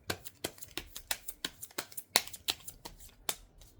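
Tarot cards are drawn and handled, producing a quick series of crisp flicks and slaps, about a dozen sharp close snaps in an uneven rhythm.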